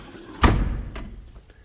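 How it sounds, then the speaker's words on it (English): A tractor cab door swings shut with a single solid thud, close by, followed by faint rustling and a quieter knock. "So get the door shut here."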